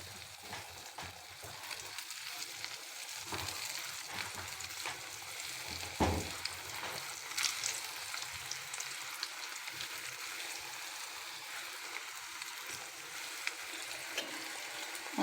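Coated chicken donuts fry in hot oil in a kadai over low heat, a steady soft bubbling sizzle that runs throughout, with one brief louder crackle partway through.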